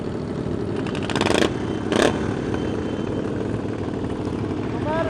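Harley motorcycles rumble and rev as bikes roll out at a cafe racer meet in Dallas, Texas, a steady loud engine drone with two brief throttle surges, heard up close from a riding bike.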